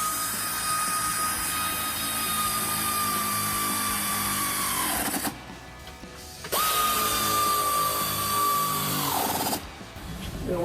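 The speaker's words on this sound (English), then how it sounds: "Now we're going to grab our air ratchet." Pneumatic air ratchet running on the rear lower control arm bolts of a 2005-2014 Mustang, two long steady whirring bursts each ending in a brief stop, loud and close with no talk.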